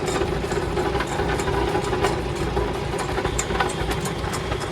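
A Farmall Super A or Cub tractor engine runs steadily with the PTO driving a cyclone spreader, a close, constant, rough low drone with faint rattling and no speech.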